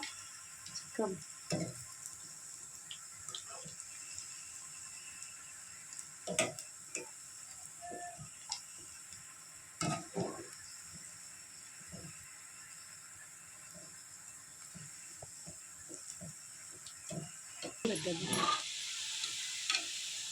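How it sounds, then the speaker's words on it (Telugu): Manchurian balls frying in a pan, a faint continuous hiss and sizzle broken by occasional sharp clicks and spatula taps, with a louder bubbling burst near the end. "ఇలా చక్కగా ఫ్రై చేసేయాలి మంచూరియా"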